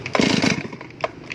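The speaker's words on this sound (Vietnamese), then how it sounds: "để nổ máy cho anh em nghe luôn" A Stihl 381 chainsaw engine tries to start with a few quick sputtering bursts, fairly quiet and close, then a short pause and one more brief pop.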